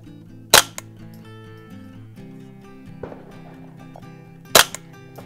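A Tactical Solutions survival rifle fires at targets: two sharp, loud single shots about four seconds apart stand out over a steady background of droning tones.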